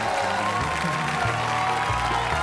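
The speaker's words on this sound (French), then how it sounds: "C'est un ami que nous allons accueillir avec un tonnerre d'applaudissements." A television studio audience gives sustained applause to welcome a guest on a French variety show, a steady dense patter of clapping with faint crowd murmur and a little music underneath.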